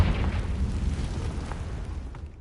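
A deep, rumbling explosion from the Confringo spell in the video game Hogwarts Legacy, a loud low boom that rolls on and slowly fades over a couple of seconds.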